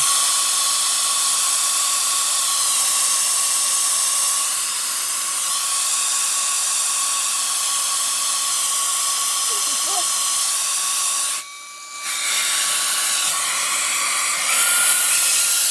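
A rechargeable USB electric duster blows dust out of a sewing machine, a steady high-pitched whirring hiss that continues throughout, briefly dipping in pitch and level near the end.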